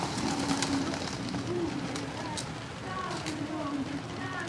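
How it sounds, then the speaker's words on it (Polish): Pigeons coo repeatedly in soft, low murmurs while being fed outdoors, close by and fairly faint, with people talking over them. "Zaklinacz gołębi."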